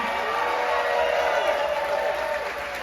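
Audience applause at the Music Box theatre during the David Lynch film fest, a steady wash of clapping from a seated crowd that holds fairly loud throughout and eases slightly at the end.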